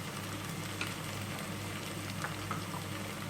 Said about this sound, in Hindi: अब अदरक लहसुन अच्छे से थोड़ा सा भुन गया है। अब इस टाइम पर हम इसके अंदर जीरा ऐड करेंगे